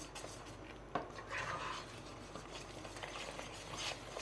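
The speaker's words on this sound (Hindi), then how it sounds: "अब इसको मिक्स कर लेंगे हम।" Bread crumbs and cardamom powder being mixed into a kulfi base with a spoon against a bowl or pan, a soft continuous stirring and scraping with a few light clinks, steady and fairly quiet throughout.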